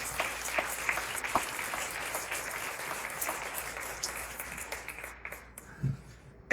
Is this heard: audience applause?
yes